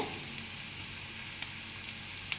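Ginger garlic paste sautéing with onions in a pan for a green peas potato curry, a steady bright sizzle with scattered pops and crackles, close and alone without any talk.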